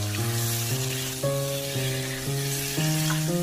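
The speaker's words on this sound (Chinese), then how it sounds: "再把丝瓜加进来，然后快速翻炒均匀" Luffa gourd is stir-fried in a hot wok with garlic and small chillies, giving a steady close sizzle beneath louder stepped background music.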